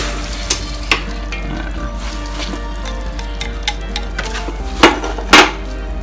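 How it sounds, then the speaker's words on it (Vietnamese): Cooked sticky rice stirred into hot sugar syrup in a pan, a steady sizzling bubble under scattered metallic scrapes and knocks from a utensil on the pan, close up, with no talking. "Rồi lúc này mình sẽ cho cơm mình vô ngào nha mọi người."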